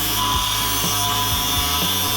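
Cutting tool grinding through a welded bung on a Ford Bronco tie rod, a loud continuous rasping whine with steady rhythmic pulses, close and alone without talk.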